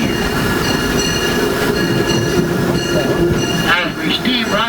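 The Disneyland Railroad steam train at Main Street, U.S.A. rumbles along steadily throughout, with continuous track and carriage noise loud and close, while a recorded narration voice plays over it.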